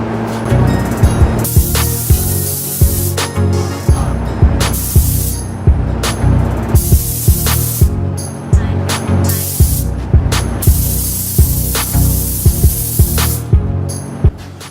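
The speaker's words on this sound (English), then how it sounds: "so that's the last drawer sprayed" A steady hissing spray from a paint spray gun coating kitchen drawers runs for the whole stretch, broken by short bursts and pauses, loud and close with a faint low hum beneath.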